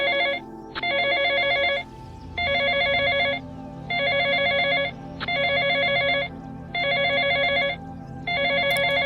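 A telephone rings repeatedly in a steady pattern of bright electronic bursts with short gaps between them, clear and fairly close, over a faint background hum.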